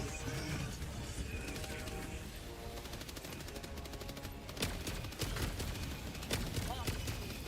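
Sentry turret firing in the Helldivers video game: rapid, sustained gunfire bursts blend into a dense, loud wash of battle noise, with sharper shot cracks standing out near the end.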